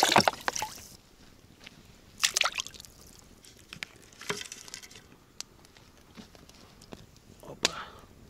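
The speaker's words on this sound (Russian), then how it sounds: "Казан промыл и наливаю туда воду." Water poured into a freshly rinsed kazan cauldron outdoors beside a log cabin in a Siberian forest, heard as a few splashy sloshing bursts with quieter dribbling and clinks between them.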